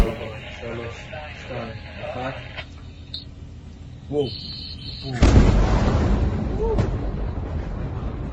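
A building in Gaza rigged with bombs by soldiers is blown up, a sudden loud blast that rumbles on and decays over several seconds, after a stretch of broadcast-style voice and radio chatter.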